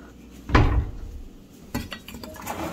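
Metal spoons, forks and utensils clatter close by in a kitchen area at a ski resort, with a loud jangling clash followed by a second, lighter rattle of clinking cutlery.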